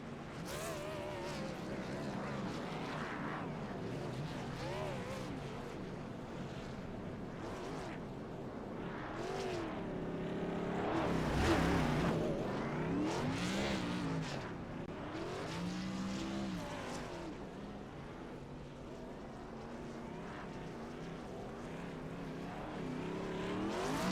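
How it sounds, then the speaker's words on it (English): A stock race car at a speedway oval does burnouts, engine roaring and tires squealing in swells that peak midway, heard from a distance across the track. "Get them burnouts out of the way"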